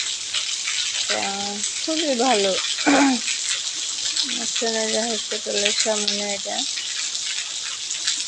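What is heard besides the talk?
heavy rain falling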